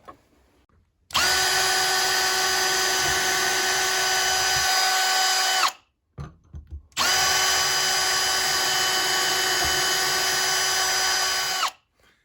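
Power drill boring pilot holes for a curtain rod bracket, two sustained high whining bursts of about five seconds each, loud and close, separated by a brief pause with small handling clicks.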